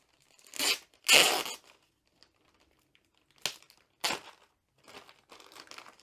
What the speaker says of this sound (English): So it's actually a resealable bag, because we have a glue strip. If we just peel this,